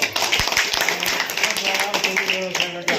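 An audience claps together at a government school management committee meeting held to elect its chairman and vice chairman, a dense patter of hands mixed with voices and a background hum.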